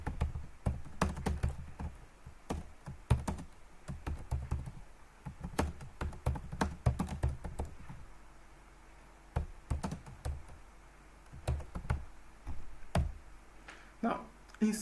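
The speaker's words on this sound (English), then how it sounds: "So let's type that out." Keys clack on a computer keyboard in quick irregular bursts, close and fairly clear, with short pauses between runs and a longer gap partway through; no one speaks over the typing.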